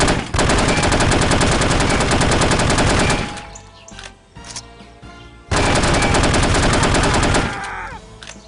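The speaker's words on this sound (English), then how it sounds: "That was the sound of a death." Gameplay from No One Lives Forever around a character's death: bursts of dense, loud automatic gunfire, a quieter gap with scattered noises, then another heavy burst of shooting.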